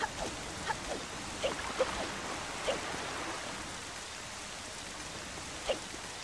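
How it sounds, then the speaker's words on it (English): Steady soft rain falls across the game world of Zelda: The Wind Waker, a quiet, even hiss of drops with a few faint splashes standing out, heard alone without talk. "So rainy, I kinda like the cozy feeling."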